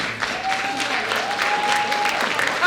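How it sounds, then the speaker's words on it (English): Audience applause fills a school event hall during an oratorical contest and art competition, a steady wash of many hands clapping for nearly three seconds with a faint tone running underneath. "All right, guys, let's clap it off for everybody."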